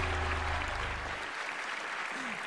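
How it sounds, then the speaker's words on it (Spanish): Audience applause for a departing beauty-pageant queen on a Latin TV pageant show, dense steady clapping throughout, with a low hum early on and no talk. "que se escuche por favor el aplauso para nuestra reina Mick Bellis."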